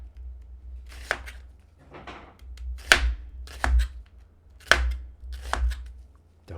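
A knife slices thin pieces of onion on a cutting board, making about six crisp chops at an irregular pace, close and clear against a low background hum.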